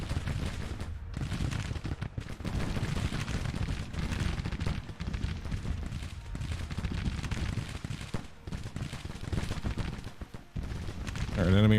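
Civil War rifle fire in the strategy game Grand Tactician: dense, continuous volleys of loud gunshots crackling almost without pause, with someone talking over the barrage.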